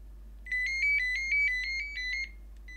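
A phone rings late in the evening with a rapid electronic trilling tone, pulsing in a steady repeated pattern for about two seconds before stopping, moderately loud over a low background hum with no talking.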